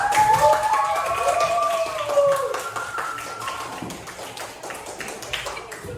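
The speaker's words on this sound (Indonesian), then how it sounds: "Oke, tepuk tangan untuk kelompok 2." Classroom of students clapping for group 2, a dense patter of many hands applauding, loudest at first and gradually thinning, with voices and a few raised shouts mixed in.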